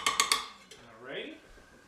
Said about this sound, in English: We're going to transfer everything from the frying pan right into our crock pot.